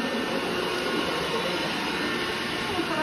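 A vacuum cleaner running indoors, a steady loud whooshing drone that holds unchanged throughout with no voices.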